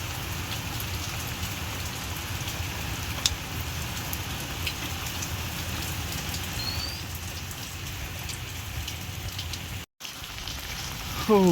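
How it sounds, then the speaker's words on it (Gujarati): Heavy monsoon rain pours steadily in Bhavnagar at night, a dense, continuous hiss of drops on surfaces that holds at an even level throughout, with only a brief cut near the end and no voices. "બધે વરસાદ ચાલુ છે અત્યારે."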